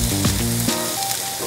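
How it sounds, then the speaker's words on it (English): Chopped onions and Swiss chard stems hit hot canola oil and give a loud, close, continuous sizzle with no voices. "I'm gonna put in a little bit of canola oil right down here. Do my onions, put those in."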